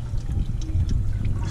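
Motor oil from a 2005 Nissan Altima running out of the oil filter area during an oil change, a steady close-up trickle and pour with a low background rumble throughout.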